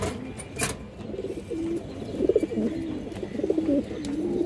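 Pigeons coo in repeated low, throaty rolls close by, several overlapping calls over a steady murmur, with a brief higher chirp or clatter near the start.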